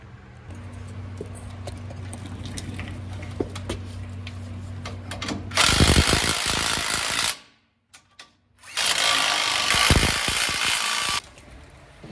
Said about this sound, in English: I just need to tighten them up now and get the other one in on the other side.